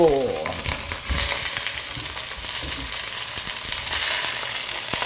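Washed pork ribs for adobo sizzle loudly and steadily in a hot pan, a dense continuous frying hiss with light crackles throughout and no talking.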